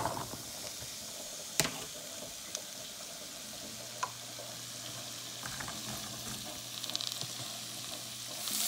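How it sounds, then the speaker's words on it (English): Green beans fry in hot oil with a soft, steady sizzle and scattered crackles, a few sharper pops and clinks from stirring standing out against the quiet hiss. "once the oil gets heated add your beans"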